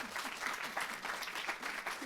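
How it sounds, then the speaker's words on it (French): An audience at a science talk on bacteria claps in a steady round of applause, with some voices and brief calls audible over the clapping. "Sous vos applaudissements, mesdames, messieurs."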